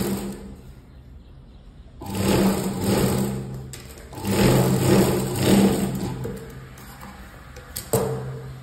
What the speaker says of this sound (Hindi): यहाँ पे भी हम तार स्टिच लगा